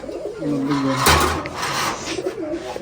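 Non-local, colour-matched fancy pigeons at a pigeon farm give close, loud throaty coos in a couple of rolling bursts, with a brief voice in the background.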